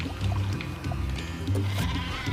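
Cartoonish sheep weapon bleating in the Worms Revolution video game, a couple of wavering bleats over low game background sound, fairly close and moderately loud.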